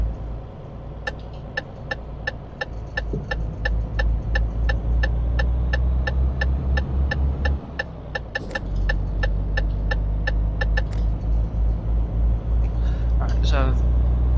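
A Renault truck engine drones steadily at low pitch while driving in Euro Truck Simulator 2, with a regular ticking, like an indicator, running over the constant rumble.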